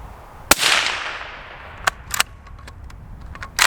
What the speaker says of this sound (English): Such an accurate, fun gun to shoot.